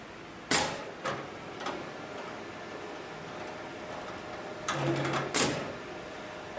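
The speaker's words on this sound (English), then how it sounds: "we're going to turn the power button on for the motor, which activates the computer and also the motor for the sewing machine" An automatic programmable sewing machine for climbing ropes starts up, with a few sharp clicks and clunks over a steady low motor hum and a brief whirring stretch near the end.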